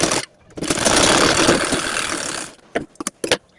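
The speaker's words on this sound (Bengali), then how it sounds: "এখানে শুধু একটা সেলাই দিয়ে নিব" A sewing machine stitches a diagonal corner piece of fabric for a salwar, a loud continuous mechanical whirring run of about two seconds followed by a few short clicks and pauses.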